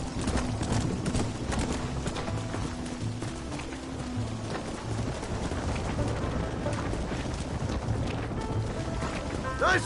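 Steady clip-clop of hooves from several horses galloping in the video game Red Dead Redemption, continuous and fairly close, with a low rumbling background throughout.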